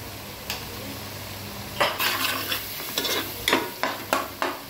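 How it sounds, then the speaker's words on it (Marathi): A masala paste of onion, coconut, garlic and ginger sautéed in oil for a river crab curry: bright sizzling with a run of quick spatula scrapes and taps, close and fairly loud, becoming more rhythmic in the second half. "ते पण चांगलं तेलामध्ये परतून घेऊया आता."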